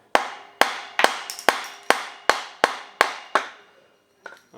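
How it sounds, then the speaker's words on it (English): Sharp tool taps strike the edge of the carburetor mount on a Honda CB750F2 motorcycle engine to separate it: about nine crisp, evenly spaced knocks, each ringing briefly, followed by a lighter tap after a pause. "tapping on the edge of the carburetor mount here, and that's separating it."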